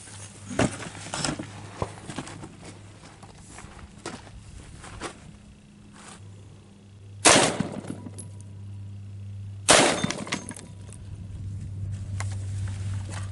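High-caliber rounds are fired at an armored car window from about 15 feet away: two sharp, loud gunshots ring out a few seconds apart, with quieter clicks and handling knocks between them.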